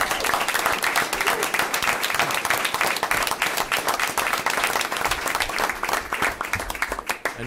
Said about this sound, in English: I think we should have another round of applause for these amazing students.